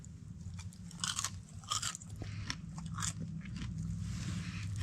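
Several crisp crunchy bites into fried chicken crust, close to the mic, with a low steady hum in the background and no talking.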